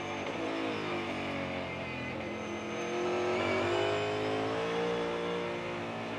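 NASCAR Cup Series race car engines at Sonoma Raceway roar continuously, a loud sustained engine drone rising in pitch as the cars accelerate and pass, with no talk.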